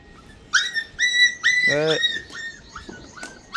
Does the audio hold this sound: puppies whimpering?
yes